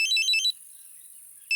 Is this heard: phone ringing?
yes